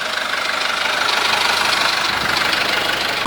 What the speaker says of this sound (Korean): 엔진오일을 교체하려고 예열 중입니다.